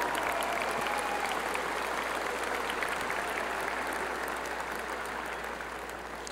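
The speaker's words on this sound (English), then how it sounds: "Give your mother a nice round of applause," Sustained applause from a large crowd at a university commencement ceremony, a steady roar of clapping that holds evenly for several seconds and fades slightly at the end.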